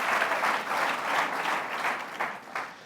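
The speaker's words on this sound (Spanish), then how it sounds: "¿Cuántos dan un aplauso al Señor?" Church congregation at a Sunday service applauding together, a steady wash of many hands clapping at moderate distance, swelling and easing over a few seconds with no talking.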